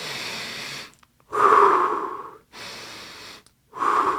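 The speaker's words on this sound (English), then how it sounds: "you might practice some deep breathing to calm your nerves" Slow, deep breathing in a quiet room, offered as a way to calm interview nerves: two soft, drawn-out inhales, each followed by a louder, fuller exhale, all close to the ear with no talking.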